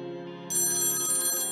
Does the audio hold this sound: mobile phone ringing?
yes